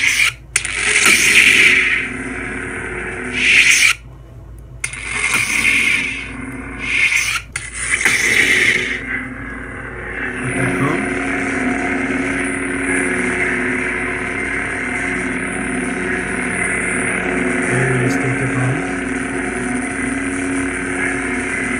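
Lightsaber sound font, the Juhani-inspired Cathar Guardian, gives several short crackling preon bursts separated by brief silences, then ignites and settles into a steady, sustained electric hum that carries on to the end.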